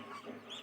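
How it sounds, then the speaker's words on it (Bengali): Geese honking nearby at a feeding spot, a short burst of a few overlapping nasal calls with no talk. "রাজহাঁসের টিম চলে আসছে।"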